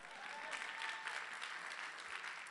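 Audience applause at a French music awards ceremony for a performer, a steady, even patter of many hands clapping, fairly faint and distant, with no voices over it.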